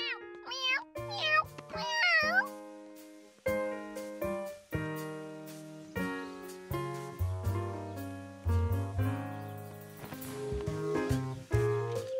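A cartoon cat meows in a few rising, high calls early on, then gives way to a loud orchestral music score in a children's animated episode.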